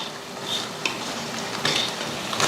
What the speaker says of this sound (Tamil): அதை சேர்த்துட்டு கிளறி விட்டுருவோம்